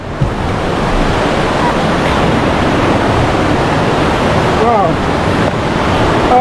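Rushing water at Hagdan-Hagdan Falls, a tiered waterfall in Mauban, Quezon, fills the scene as a loud, steady roar from start to finish, with faint voices briefly heard near the end.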